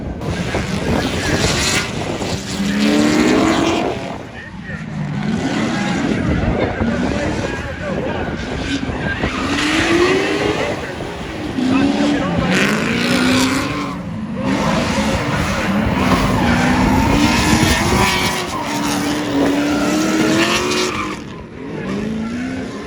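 LS3 V8-swapped Miata in a drift battle, its engine revving hard in rising and falling sweeps with tire screech and skidding through thick smoke, loud and sustained, with someone talking over it.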